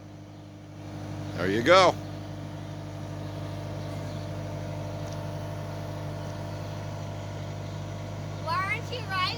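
A skid steer engine runs at a steady, droning idle close by, with a brief louder burst early on, while people talk over it.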